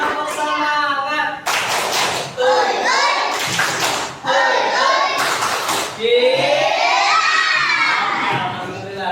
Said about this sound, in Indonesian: coba tepuk semangat, gimana tepuk semangat 3C?